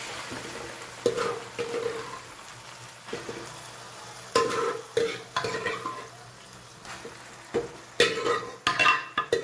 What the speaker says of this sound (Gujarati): હવે જે ભાજી બાફી છે એ નાખી દે.